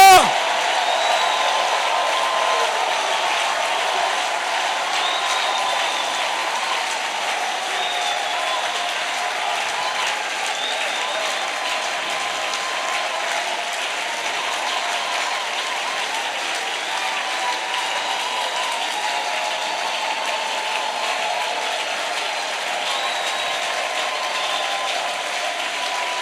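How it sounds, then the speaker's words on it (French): A church congregation cheers and applauds, a dense, steady wash of clapping and shouts that runs on without a break, with voices woven into the crowd noise. "Ces acclamations là, ce sont des cris de victoire."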